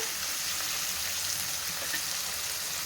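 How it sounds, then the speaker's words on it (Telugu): Chopped onions frying and softening in a pan, a steady, bright, close sizzle with a faint crackle that holds evenly throughout, no one speaking. "కొంచెం మగ్గాలి ఉల్లిగడ్డ కొంచెం మగ్గినాక"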